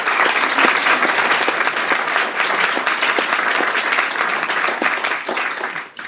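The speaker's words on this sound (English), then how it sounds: "So can we please do a round of applause for Dita Gill?" Audience at a Brexit debate at London Metropolitan University gives warm, dense applause for Dita Gill, loud and continuous, tapering off in the last second.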